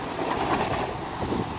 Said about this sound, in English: I think we got a secondary train coming now toward us